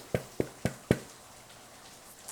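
Four hollow knocks on a baked, browned, crusty loaf of French bread, evenly spaced and close, each a short dull thump, followed by quiet.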